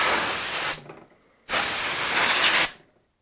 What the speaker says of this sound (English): will compressed air even